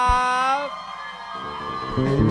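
A live concert audience at a fan event screams and whoops loudly, shrill voices rising together, with a sustained tone and crowd noise beneath.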